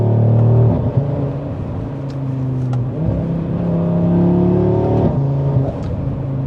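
An Audi RS3 automatic in performance mode drones and whirs from inside as it downshifts, with turbo spool and shifting engine pitch across several gear changes, loud and steady.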